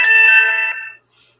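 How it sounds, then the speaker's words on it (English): A mobile phone ringtone plays in a courtroom during a murder trial, a bright multi-tone chime sounding steadily for about a second, then a brief fainter echo of the tune before silence. "So those of you that are hearing my phone go off"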